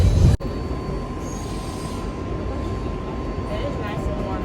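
New York subway train at Borough Hall station; a sharp thump at the start, then sustained rail rumble with a faint steady tonal whine from the train, moderately loud and continuous throughout.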